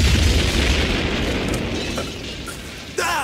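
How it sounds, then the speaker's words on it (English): A loud animated explosion as the Equalizer's tanks blow in a 1989 G.I. Joe cartoon, a sustained roaring blast with a heavy low rumble that slowly fades, then a sharp burst of debris near the end. "Foam them down! Hit the deck! The equalizer's tanks are gonna blow!"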